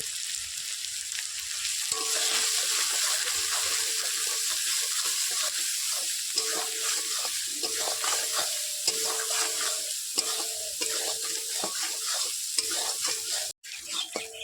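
Masala sautéing with salt and turmeric in a pan, a steady bubbling sizzle with regular spatula stirring strokes and scrapes, close and fairly loud, with no voices.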